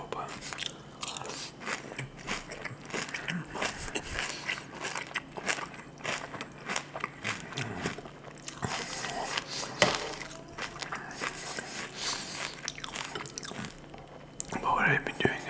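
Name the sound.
crunchy cereal being eaten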